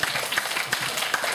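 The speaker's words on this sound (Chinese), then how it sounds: "鼓掌一下" Students in a university sociology classroom give a short burst of applause, a dense patter of many hands close and fairly loud with no speech over it.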